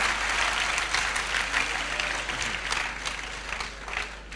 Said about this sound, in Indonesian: Beri tepuk tangan buat Tuhan kita.